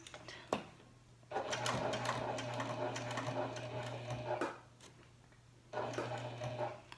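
Janome HD9 sewing machine stitching in two steady mechanical runs, close and fairly quiet, with a short pause between them and a faint hum underneath.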